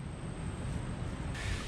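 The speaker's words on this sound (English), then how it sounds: "it is really windy now" Steady, loud wind rushing and buffeting across a microphone on an open coastline, broadband roar with surf-like wash underneath and a brighter gust near the end, with no voices.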